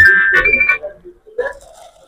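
A mobile phone ringtone plays loudly and close for under a second, then stops, followed by a brief voice answering.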